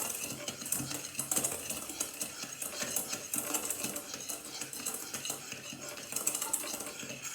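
A utensil clinks and taps rapidly against a bowl while egg is stirred into pastry cream, a busy, moderately quiet rhythm of small knocks close by, with no voices.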